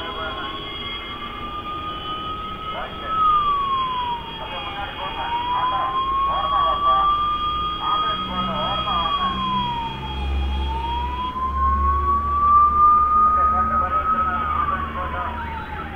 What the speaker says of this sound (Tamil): இப்போ இந்த ஒரு இரநூறு மீட்டர் கிராஸ் பண்ணுறது மட்டும் ஆம்புலன்ஸ்க்கு எவ்வளோ நேரம் ஆகுதுன்னு பாருங்கள்.